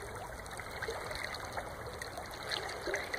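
A stream flows beneath a bluff with a steady, close babbling and trickling rush that holds at an even level throughout and has no voices.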